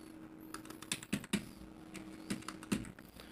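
Keys on a computer keyboard click in short, uneven taps as a mobile number is typed into an online complaint form, close up, with a faint steady hum underneath.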